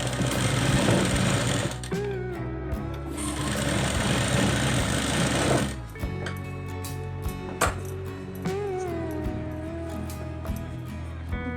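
Sewing machine running kinari stitches on a plain blouse, a loud steady mechanical whirr for several seconds, then shorter bursts of stitching with pauses and small clicks.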